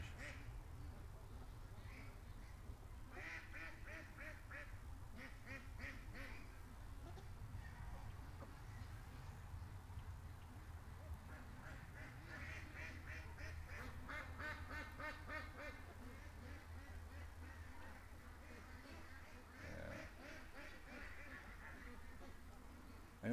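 Ducks quack in repeated bursts near a creek, a few calls clustered at intervals over a low rumbling background, moderately faint, with occasional voices mixed in.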